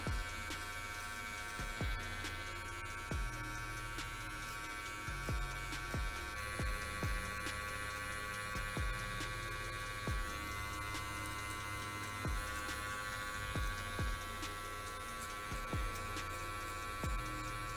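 Electric hair clippers with the lever closed buzz steadily and close up through a self-cut mohawk, a constant motorized drone with faint periodic ticks as the blades pass through hair.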